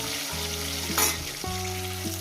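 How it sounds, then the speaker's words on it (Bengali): Fish pieces, tails and a head, sizzle steadily in hot oil in a pan, a constant crackling hiss with a louder spatter about midway, under a faint background tone. "বাদ বাকি মাছগুলো ওই দুটো লেজা আছে আর মাথা আছে একেবারে ভেজে নিচ্ছি।"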